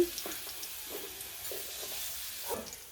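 Chopped onions fry in mustard oil with a soft continuous sizzle up close, interrupted by several light scraping stirs of a utensil in the pan.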